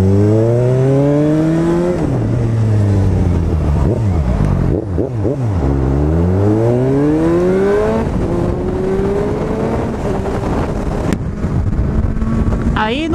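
A Suzuki GSR750 motorcycle engine revs hard several times, its pitch sweeping sharply up and down in repeated throttle blips, loud and close, with wind buffeting the microphone.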